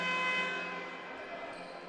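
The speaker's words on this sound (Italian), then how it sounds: "la sirena che viene suonata da Giacomo Voltarella, il crono di Treviso" A basketball game-clock siren blares at an Italian game in Treviso, a loud steady sustained tone that slowly fades, heard alone without voices.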